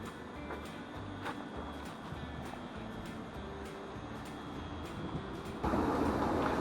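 Inside a moving train between Alton and Woking, a low rumbling hum carries steady rhythmic clatter and faint clicks, fairly quiet, before a louder rushing swell takes over near the end.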